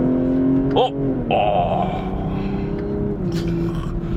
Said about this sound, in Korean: 변속기 매뉴얼로 넣고 스포츠나 혹은 스포츠 플러스로 바꾼 다음 툭 칩니다. 자, 2단 쭉 가요.